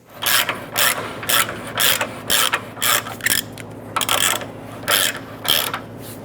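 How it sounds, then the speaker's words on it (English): A ratchet tightens a subframe bolt on a 2008-2013 Nissan Rogue, giving a rapid rhythmic series of clicking bursts with short pauses between strokes, close and clear with no talk. "use our ratchet and just run it up a couple more threads to secure this"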